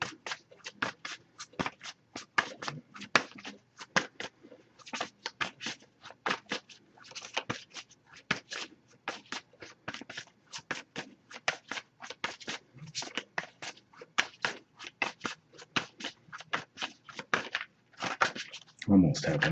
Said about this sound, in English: if I shuffle for a while without anything coming up, I'll just put the deck down